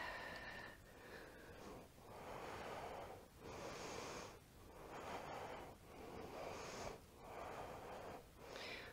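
Heavy rhythmic breathing during an exercise workout, several long inhale-exhale cycles repeating steadily, close and fairly quiet with no talk.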